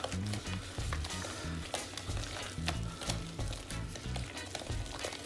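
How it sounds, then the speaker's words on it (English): Halloween cupcake batter being stirred and mixed in a bowl, a steady scraping, rhythmic churn that repeats about every half second, close and continuous, with no talk over it. "So next thing you got to do is mix this all together."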